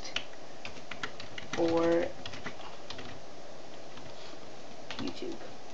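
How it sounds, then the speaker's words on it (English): Quiet, irregular tapping of a computer keyboard as a title is typed, with a brief soft word spoken partway through. "So now you have this title thing, so type in your title."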